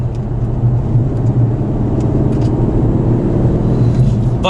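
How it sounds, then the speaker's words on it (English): A 2020 Aston Martin DB11 V8 accelerating under throttle, its steady low engine rumble heard continuously from inside the cabin. "when I put my foot down on the throttle, the acceleration is not what I would call ferocious"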